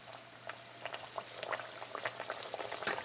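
Roat dough frying in hot ghee on a stove at medium heat, a soft bubbling crackle with scattered light pops, fairly quiet and steady with no one speaking.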